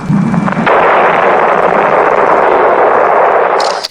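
A Soviet nuclear test blast from archival film roars in as a sudden, loud, sustained rumble that holds steady for several seconds before cutting off abruptly.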